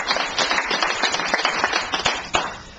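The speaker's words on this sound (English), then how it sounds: "So please give yourself a round of applause for that." Scattered audience clapping at a 2-1-1 anniversary celebration, a fairly thin, uneven patter of hands with a few sharper claps standing out, steady for a few seconds with no voices over it.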